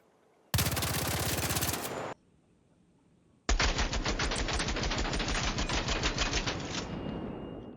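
Two loud, close bursts of rapid SMG fire from a weapon fitted with a muzzle brake in ARC Raiders: a short sharp volley, a brief pause, then a longer sustained stream of rapid shots that trails off.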